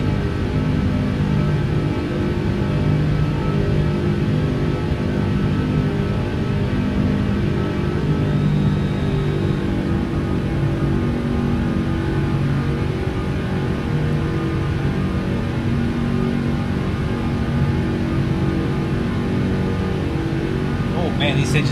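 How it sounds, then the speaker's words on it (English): Rolls-Royce engines on a Flight Factor 777 airliner in the X-Plane flight simulator roar steadily during climb after takeoff, a loud constant drone with a faint high whine, without talk. "Oh man, these engines sound good."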